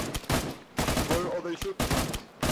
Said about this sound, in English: Where are they shooting?